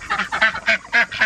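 Several loud, nasal duck quacks in quick succession, close by, each a short burst with brief gaps between.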